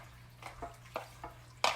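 A spoon stirs chili with beans and about two cups of plain water in a pot, giving several soft, separate scraping swishes and a louder clatter at the end, close up and without talk.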